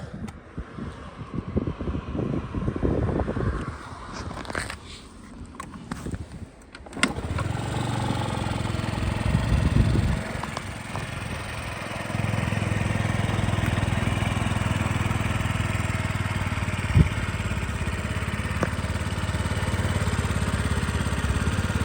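A Yamaha Jog SA58 scooter engine (2017, fuel injected) starts up and settles into a steady, droning idle, with some handling noise and clatter in the first few seconds.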